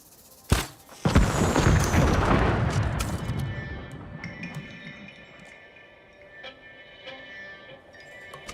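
A big explosion goes off in the samurai video game Ghost of Tsushima on Iki Island. A sharp blast is followed a beat later by a heavier boom, whose rumbling debris decays slowly over several seconds.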